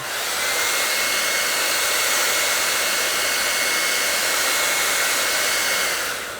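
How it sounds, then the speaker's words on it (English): Hair dryer blowing with a loud, steady whoosh and no pauses, heating chrome trim on a Tesla Model S to loosen adhesive, heard close up and on its own. "we can start heating up with a hair dryer the chrome trim"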